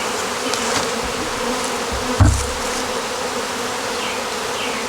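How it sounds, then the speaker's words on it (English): Honey bees hum steadily around a hive box, a close, continuous buzzing with a brief dull knock partway through. "we do have quite a few bees on this box"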